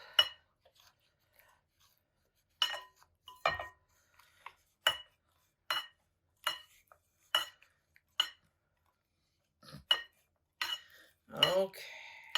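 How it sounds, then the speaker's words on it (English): A spoon clinks against a bowl while warm butter and honey mixture is stirred into a salted honey chess pie filling, giving sparse, sharp metallic taps at irregular intervals with near silence between them. "stream in our warm butter honey mixture. Keep stirring, keep stirring, keep stirring."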